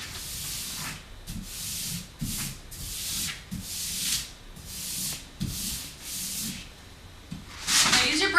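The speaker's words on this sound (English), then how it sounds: "Now smooth it out against the wall, using, again, from the top to the bottom and the middle out" A hand or tool smoothing vinyl wall lettering against a wall, working top to bottom and middle out, makes repeated close dry rubbing and sanding strokes in a steady rhythm, ending with a louder burst of friction.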